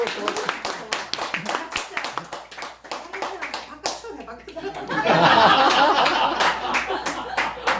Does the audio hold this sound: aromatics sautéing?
no